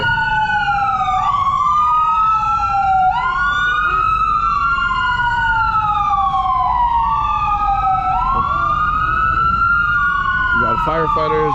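Several emergency vehicle sirens, including a fire truck and an ambulance, on East Hastings Street in Vancouver, overlapping in loud sweeping wails that rise and fall continuously over street rumble, with a brief burst of other noise near the end.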